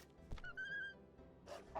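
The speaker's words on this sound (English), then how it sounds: "Is this dog gonna kill me? This dog is gonna kill me." A dog barks in the video game RuneScape 3, a couple of short sharp yips with a whining tone, heard faintly over quiet game music.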